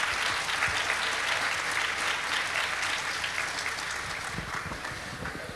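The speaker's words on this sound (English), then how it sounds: "Give them a warm round of applause," A warm round of applause from a festival crowd for the finalists at the 1991 Chicopee Kielbasa Festival, sustained clapping that swells at first and then gradually thins and fades toward the end.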